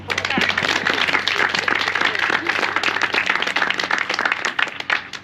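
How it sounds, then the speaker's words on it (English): Crowd clapping at the groundbreaking ceremony for a welcome center in Viroqua, dense and fairly loud throughout, with voices mixed in beneath the applause. "So I'd like us all to give ourselves a round of applause."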